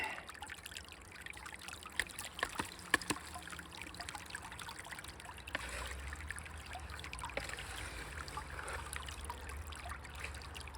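Muddy water trickles and streams steadily from a gold sluice box during winter sluicing in Oregon, a continuous close-up flow with small splashes and burbles, growing slightly louder partway through.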